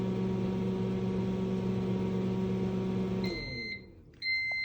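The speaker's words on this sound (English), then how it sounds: "Okay, microwave is done." A microwave oven hum runs steadily, then cuts off and gives a completion beep, a brief pause, and a second beep starting, all clear with no voices.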